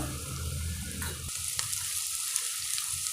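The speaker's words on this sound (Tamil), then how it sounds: "எல்லாத்தையும் நல்லா வதக்கிக்கோங்க" Onions, curry leaves and green chillies sautéing in a pan for prawn thokku, a dense close sizzle with a sharp hiss partway through and light stirring scrapes after.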